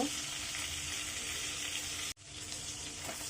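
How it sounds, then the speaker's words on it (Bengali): Fish frying in a pan of hot oil, a steady loud broadband sizzle that drops out briefly near the end, then resumes. "আমি একইভাবে অন্য পাঁচটাও ফ্রাই করে নিব"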